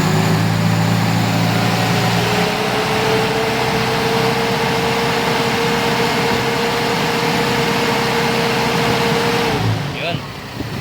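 A car engine with its alternator under test runs loud and steady, rising into a sustained higher-revving hum for several seconds before dropping off abruptly near the end, heard up close.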